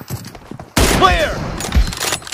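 Gunfire in a multiplayer shooter video game: a sudden loud burst of shots with ringing, echoing tails, preceded by quieter game noise and followed by continued shooting and faint voices.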